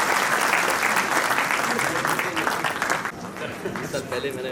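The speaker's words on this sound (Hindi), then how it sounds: "Big clap." Audience applause at an IGNOU regional convocation ceremony in Srinagar, a loud sustained wash of clapping that tapers slightly toward the end, with some voices mixed in underneath.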